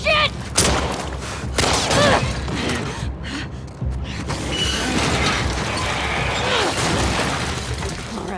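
Loud, chaotic gunfire during a chase in The Last of Us Part II, dense volleys mixed with crashes and breathy gasps, sustained throughout with a brief lull near the middle.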